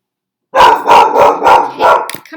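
Loud, close barking from a dog after a moment of silence: five sharp barks in an even, rapid rhythm, then a short tail of fainter noise.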